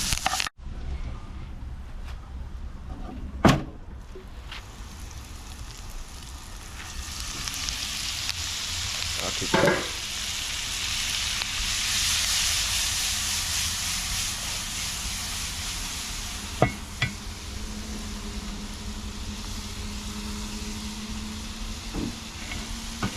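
Vegetables sizzle steadily in a pan for Jamaican shrimp and ackee, a continuous bright frying hiss with a few sharp clinks of a utensil against the pan, no talking.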